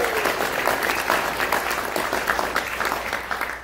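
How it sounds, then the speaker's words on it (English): Applause from an audience at a lecture event held by a psychedelic society, honoring the volunteers: dense, steady clapping that fills the room for several seconds without letting up. "Let's have a round of applause for the people who are here."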